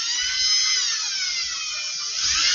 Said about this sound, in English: I'm drilling the holes just to make my life easier